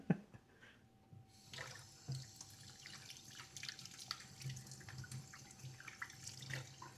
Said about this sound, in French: on va se rincer les mains là